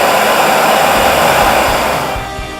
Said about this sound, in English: when we touch that button, it basically just vacuums anything up